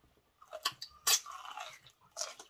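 Close, crisp crunching of thick, tough cow skin being chewed, a few irregular bites and crackling chews with brief pauses between, quiet and intimate with no talking.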